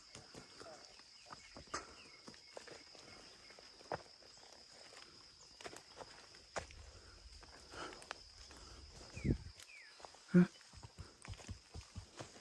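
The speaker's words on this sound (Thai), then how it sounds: "เมื่อกี้ได้ยินเสียงเดินตามนะครับ" Footsteps walk along behind outdoors, soft irregular steps on the ground beneath a constant high insect drone, with one louder thump near the end.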